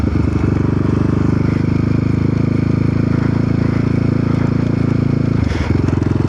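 Motorcycle engine revving hard as its rear wheel spins on snow under throttle, a steady loud droning roar held for several seconds with a brief dip near the end.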